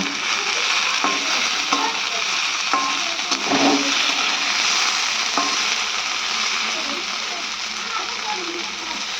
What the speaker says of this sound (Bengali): এটাকে একটু তেলের মধ্যে ভেজে নিচ্ছে